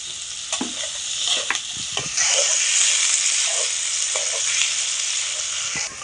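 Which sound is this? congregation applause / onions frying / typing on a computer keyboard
onions frying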